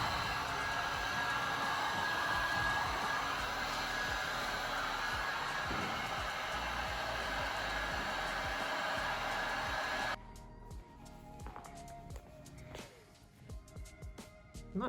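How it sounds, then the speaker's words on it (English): A heat gun blows hot air over vinyl on a rivet, giving a steady close hiss and fan drone that runs unchanged for about ten seconds and then cuts off, leaving quiet shop noises. "that heat gun will just suck that vinyl right down on top of that rivet"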